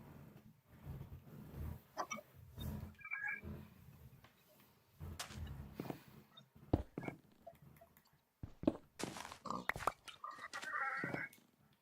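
Pig grunts and oinks from a farm animal in a video game, coming in short irregular bursts of varying loudness alongside clicks and bumps of gameplay, with no talk over them.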